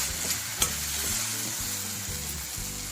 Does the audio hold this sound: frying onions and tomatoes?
yes